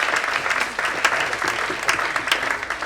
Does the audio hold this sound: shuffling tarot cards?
no